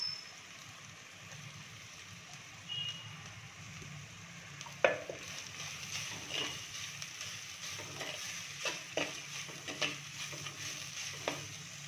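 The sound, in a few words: onion sautéing in a pan with whole garam masala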